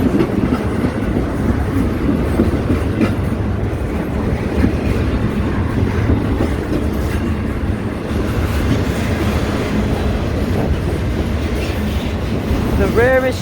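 A Union Pacific train rolls past a level crossing with the gates down, giving a steady, loud rumble of wheels and cars that holds evenly throughout, with no voices over it.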